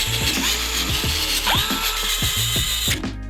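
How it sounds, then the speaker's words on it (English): Ratchet tightening bolts on a Onewheel GT in a star pattern, a rapid series of close metallic clicks and pawl ticks in quick bursts, loud and mechanical, with no talking. "now I'm gonna tighten down these. When I'm doing this, I'm gonna go in a star pattern"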